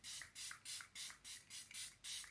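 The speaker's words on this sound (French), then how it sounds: "je viens appliquer mon spray fixant pour venir bien mélanger toutes les matières poudres entre elles" Makeup setting spray misted in eight quick, even bursts, each a short soft hiss with brief pauses between, close up and alone with no talking.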